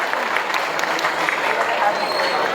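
Audience applause at a Hareli festival honour ceremony on the Dussehra ground in Risali, Bhilai, a steady broadband crowd clapping sustained evenly throughout, with some murmur mixed in.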